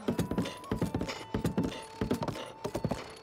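A horse in The Legend of Zelda: Breath of the Wild trots with steady, quick clip-clopping hooves, crisp and close, with no talk over it.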